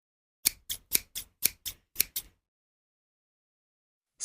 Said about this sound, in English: Scissors cutting.